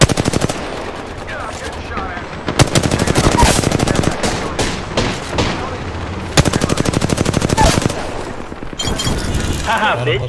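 Apex Legends gunfire in rapid automatic bursts, loud and close, with separate strings of shots broken by short gaps and a player's voice talking between them.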